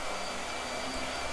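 A blow dryer runs steadily with a continuous airy whoosh, fairly quiet and alone, with no change in pitch over the brief stretch.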